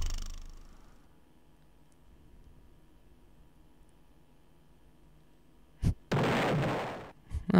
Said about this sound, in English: Pretty sure it makes a pretty big explosion.